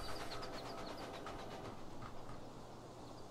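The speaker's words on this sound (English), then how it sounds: "there's trains all over the place" Trains rumble in the Railway Empire video game, a faint, steady rolling noise with a light rhythmic patter and thin whistle-like tones fading after a couple of seconds.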